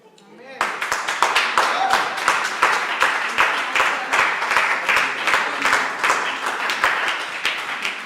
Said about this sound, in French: Maintenant, vous applaudissez pour qui?